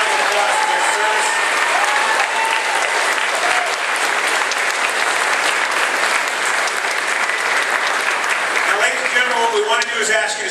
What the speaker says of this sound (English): give them a round of applause for their service.